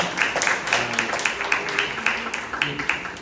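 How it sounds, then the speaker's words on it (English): Meetup audience applause in Seoul for a Bitcoin community organizer, rhythmic clapping from a modest crowd with overlapping talk underneath. "I actually wanted to give him a round of applause for all the work that he has done"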